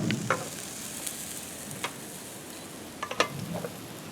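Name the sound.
stirring scallions and cilantro in a bowl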